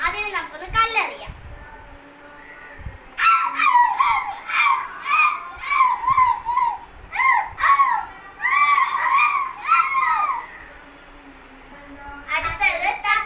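A performer's voice imitates a small puppy, giving a run of short, high yelping yips in quick bursts over several seconds, loud and close, with brief pauses between groups.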